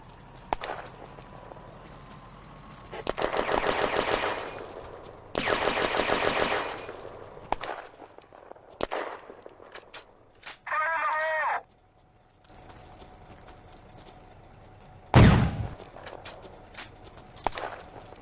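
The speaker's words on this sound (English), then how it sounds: "And Baudin's FM-2429 machine gun returns fire." An FM 24/29 machine gun returns fire in a video game battle set in May 1940 at Château Marchin, with sharp rattling bursts of a second or more, separated by scattered single shots and distant battle noise.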